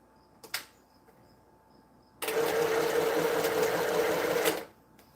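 A sewing machine stitches a quilt top in one steady, loud burst of whirring that runs for about two seconds and then stops, after a short quiet pause with a faint knock.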